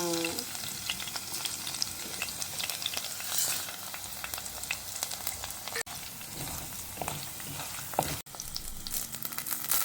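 Curry leaves and asafoetida frying in hot oil for a banana flower curry, a steady crackling sizzle with occasional sharper pops and stirring, heard alone without talk.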